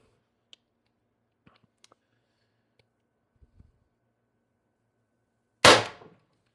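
An Umarex TR50 CO2 air gun on a 36 g CO2 cartridge fires a 12.7 mm steel ball bearing: one loud, close, sharp report after several seconds of near silence broken only by a few faint clicks.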